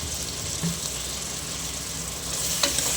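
Tomatoes and salt frying in a pan for potato and soya chunk gravy, a steady soft sizzle at low level with a brief stirring clink near the end.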